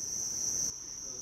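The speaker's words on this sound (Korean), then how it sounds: "이 한 칸에 귀뚜라미 만 마리가 자라고 있는데" Ten thousand crickets chirp together in a vertical multi-tier insect smart farm, a dense, continuous, shrill trilling that fills the space and dips slightly in level partway through.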